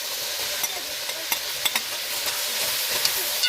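Onions hit hot oil for kazan kebab, a loud continuous frying hiss with a few sharp spatters and stirring knocks from the pot, close by and without speech.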